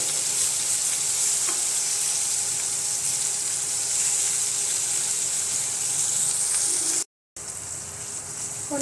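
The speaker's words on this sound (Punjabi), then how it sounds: "ਭਿੰਡੀਆਂ ਨੂੰ ਆਪਾਂ ਪੈਨ ਦੇ ਵਿੱਚ ਲਾ ਦੇਵਾਂਗੇ" Okra fries in a pan with a loud, steady sizzle and hiss, broken by one brief drop to silence near the end.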